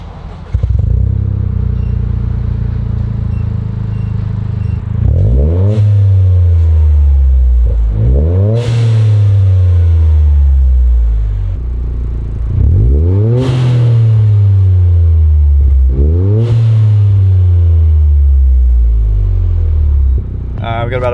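A Toyota GR Yaris running an ECUtek tune starts up and revs hard several times, each rev sweeping up loudly and falling back to a steady, rumbling idle between bursts.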